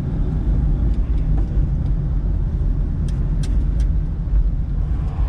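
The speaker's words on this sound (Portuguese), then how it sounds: "Nossa, que legal dirigir esse carro, gente" A Fiat 147 drives on a test track, its engine and road noise forming a loud, steady rumble throughout, with no one speaking.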